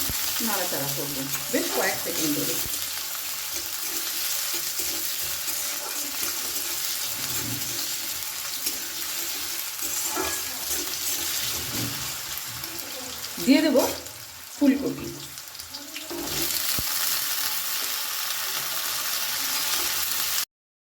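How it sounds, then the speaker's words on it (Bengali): Whole cumin and cut potatoes sizzle steadily in hot oil as a Bengali cauliflower samosa filling is cooked, with a continuous frying hiss broken by scraping stirs and a couple of louder clatters from the spoon against the pan. "এখন আমি তেলের মধ্যে দিয়ে দেব সামান্য একটু গোটা জিরে ফোড়নটাকে একটু নেড়ে নেব দিয়ে দিলাম কেটে রাখা আলু"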